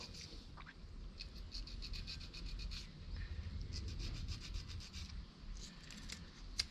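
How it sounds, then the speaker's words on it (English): Fine 400 grit sandpaper lightly rubbed on a part of a Honda VTX motorcycle to clean it, a quick repeated scratchy rasp in short rhythmic strokes, close and steady, with no talking. "It's like a 400 grit sandpaper."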